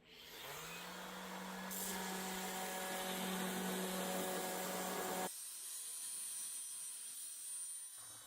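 A saw cuts plywood to size, a sustained rough buzzing whine at close range that runs for about five seconds before cutting out, leaving only a faint lingering tone.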